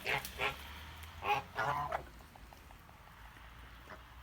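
Kholmogory geese honk in a few faint, separate bursts of calls during the first two seconds, then fall into quiet outdoor background.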